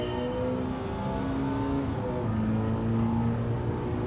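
A flat-plane-crank car engine in Gran Turismo 7 revving toward about 9,000 RPM, a steady loud tone that climbs and shifts pitch, with no one talking.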